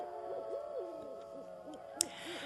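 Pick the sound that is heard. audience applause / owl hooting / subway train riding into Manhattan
owl hooting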